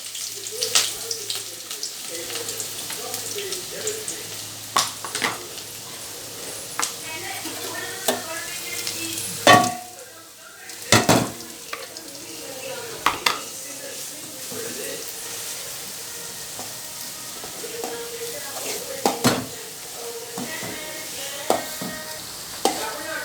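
Onions and green chillies frying in hot oil, a continuous close sizzle broken by repeated sharp scrapes and clanks of stirring against the pan, with faint speech in the background.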